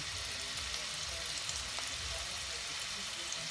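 Onions sweat in a pan with a soft, steady sizzle, faint and even throughout, with no voices over it.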